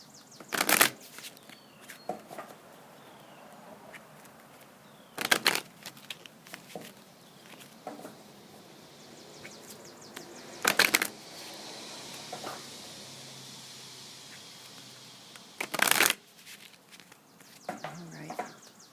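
Brian Froud Fairy Oracle cards being shuffled make crisp riffling bursts, about four loud flurries spaced several seconds apart, with quieter card handling and soft rustles between them, close and clear.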